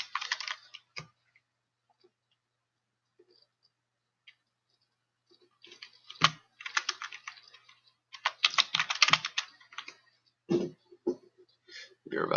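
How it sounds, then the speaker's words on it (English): Computer keyboard typing in quick, fairly faint bursts of key clacks separated by pauses, with occasional low voice sounds between the runs. "As I type this in, you'll find out."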